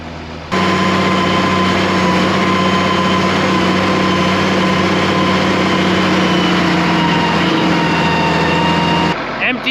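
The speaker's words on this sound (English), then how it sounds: "Dad's just out here with the New Holland. The New Holland loader, smoothing it out." Steady, loud diesel drone of a New Holland loader tractor running continuously while smoothing a rough field, a close, even engine hum with no change in pitch across the whole stretch.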